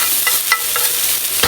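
Italian sausage and brown mushrooms sauté loudly in a hot pan, a steady bright sizzle broken by quick stirring scrapes.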